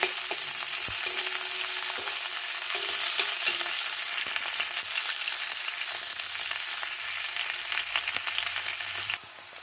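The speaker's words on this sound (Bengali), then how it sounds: "ফুলকপিটা একটু ভাজা ভাজা করে নিতে হবে" Cauliflower florets fry in hot oil in a pan for semolina upma, giving a loud, continuous, close-up sizzle. Occasional stirring scrapes run under it, and the sizzle drops off near the end.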